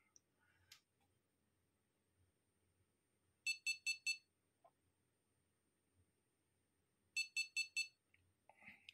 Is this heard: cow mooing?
no